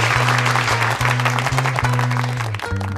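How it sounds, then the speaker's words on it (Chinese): A classroom of students applauds the model during an anatomy lesson, a steady patter of clapping with a sustained low musical tone running underneath that breaks off briefly near the end. "来，我们给他掌声鼓励鼓励啊！"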